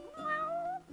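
A cat in the video game Final Fantasy XV gives a single short meow, close and clear, rising then falling over about a second.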